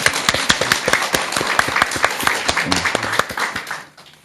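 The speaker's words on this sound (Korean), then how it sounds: "박수 한번 쳐드릴까요?" A small audience in a Korean Buddhist talk show studio breaks into applause, distinct close claps in a brisk uneven patter that fade out near the end.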